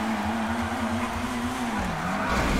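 A rally sports car drifts in GTA 5 Online, its tires squealing in a loud, sustained wavering screech over a steady engine roar, close and continuous with no talk.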